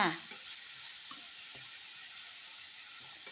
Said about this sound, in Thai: ผัดทุกอย่างให้เข้ากันนะคะ